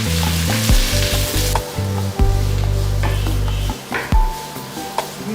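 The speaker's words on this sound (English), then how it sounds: "Then I'm going to add sliced onions." About two medium onions, sliced, fry in a pan with roasting chilies, a loud steady sizzle broken by stirring and scraping knocks. No one speaks.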